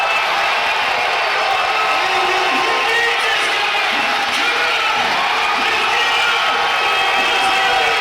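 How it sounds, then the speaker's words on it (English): A large crowd at a strongman deadlift event roars and cheers continuously and loudly, a dense, steady wall of voices with scattered whoops and shouts. "all the crowd are getting up on their feet for this one"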